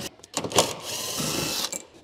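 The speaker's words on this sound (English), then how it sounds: "So let's get these screws out." A cordless power tool driving out long seat screws from a VW Golf R32 interior, with short whirring bursts and clicks giving way to a steady high whir, close up.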